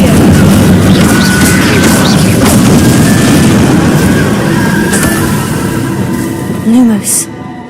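A fire spell, Incendio, cast during a Hogwarts Legacy battle erupts in loud booming bursts amid dense combat noise, with a sharp whoosh near the end and someone talking throughout.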